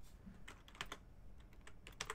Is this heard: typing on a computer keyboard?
yes